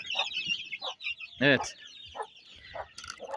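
Chickens and roosters cluck in short, close bursts with a louder squawk in the middle, and a voice speaks briefly among them.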